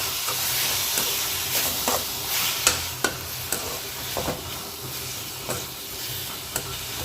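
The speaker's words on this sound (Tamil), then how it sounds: "நல்லா குழைவாக வதங்கி வச்சுப்பேன்." Tomatoes and onions soften in a hot pan for a tomato pachadi, with a constant hissing sizzle and occasional sharp taps of a spoon against the pan, close by and without speech.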